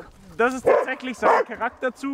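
A search-and-rescue dog barks and yips in short bursts while a person speaks German close by, the barks mixed in with the talking.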